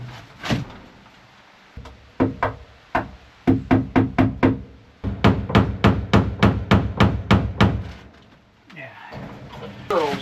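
Repeated hammer blows ring out in bursts while setting up a chicken coop, some single strikes then a long steady run of evenly spaced hits, loud and close, with some rustling after.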